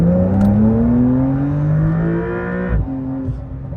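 Sports car, a 2024 BMW M4 Competition or 2024 Porsche 911 Carrera, accelerating hard: a loud engine note rising steadily through the revs, then cut short by a gear change and picking up again, heard from inside the car.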